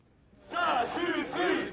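Crowd cheering at the opening day of the Walt Disney Studios park, a burst of loud massed shouting and cheers rising after a brief lull and carrying on in two swells.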